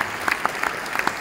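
A quick burst of audience applause at the Vivatech 2024 tech conference: scattered, crisp claps from the crowd that rise briefly and then thin out, with no talking over them.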